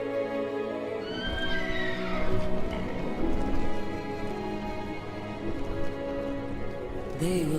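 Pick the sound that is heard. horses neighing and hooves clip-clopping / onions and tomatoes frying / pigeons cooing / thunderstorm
horses neighing and hooves clip-clopping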